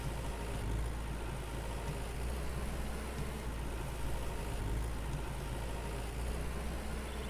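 A tractor engine plowing a field in Farmer's Dynasty, a steady low droning rumble that holds an even level throughout, heard alone without talk.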